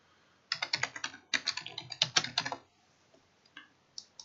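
Password keys tapped on a computer keyboard during a cloud server login: a quick burst of close, crisp clicks, a short pause, another rapid run, then a few scattered final taps.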